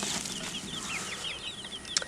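Several chickens cluck and chirp nearby in quick, scattered calls, with a brief flutter of wings toward the end.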